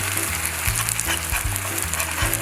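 Pad Thai sizzling and frying in a hot pan while being stirred: a dense, steady hiss of frying with rhythmic low scraping strokes of the utensil, close and continuous, no talk.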